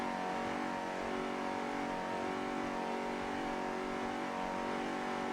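Racing powerboats on the bay, including Joker powerboats with Tyler Crockett marine engines, droning at high revs in a continuous, steady roar at a distance, with no clear breaks or changes in pitch.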